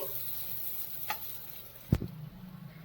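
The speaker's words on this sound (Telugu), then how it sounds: "దీన్ని ఇప్పుడు మనం శుభ్రంగా వేయించేసుకుందాం." Taro root pieces frying in oil with salt and chili powder, a soft steady sizzle with a sharp clack of a spoon against the pan near the two-second mark and light stirring after it.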